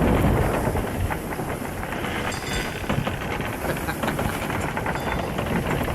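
Heavy rain and storm noise from a ship at sea during a thunderstorm in the pirate game Sea of Thieves, a dense, steady roar with faint rumbling underneath and no distinct thunderclaps.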